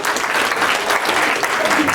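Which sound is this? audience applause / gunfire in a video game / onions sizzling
audience applause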